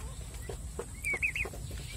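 Adult Black Spanish turkeys in a pen give a few short, high calls close by over low farmyard rumble, with quieter clucks scattered around them.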